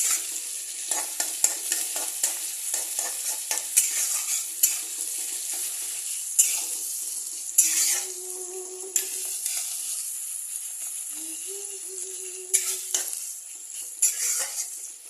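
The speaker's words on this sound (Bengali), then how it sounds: "আদা বাটাটা দিয়েও আবার কিছুক্ষণ নাড়তে হবে। বেশিক্ষণ না, 1-2 মিনিট নাড়লেই হবে।" Ginger paste stirred and fried in a pan for mutton curry, a steady sizzle with repeated scraping strokes of a spatula against the pan and a couple of brief metallic clinks, close and alone.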